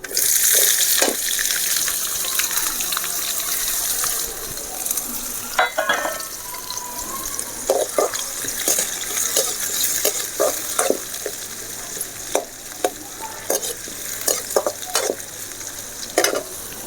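Sliced onions frying in hot oil with fennel seeds, a continuous loud sizzle broken by frequent clinks and scrapes of a spoon stirring the pan, with no one speaking.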